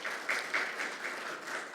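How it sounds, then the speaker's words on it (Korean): An audience at a legal academic forum welcomes a panelist with moderate, brief clapping, many hands together in a slightly uneven rhythm. "박수로 환영해 주시면 감사하겠습니다"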